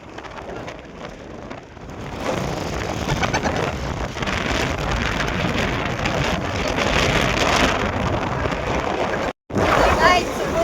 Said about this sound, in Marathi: अजून येणार आहे. थेंब येऊ लागल्यात.